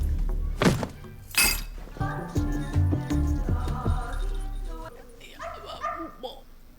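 A person imitates a puppy dog with yappy barks and yelps, several loud close vocal bursts mixed with thumps and bangs, alongside other talking voices.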